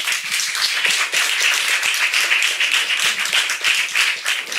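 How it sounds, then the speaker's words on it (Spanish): Audience applause for a speaker at a film festival masterclass, loud and dense continuous clapping from a room of listeners, steady throughout with no voices over it. "Por favor, un aplauso a Mercedes Jabardo"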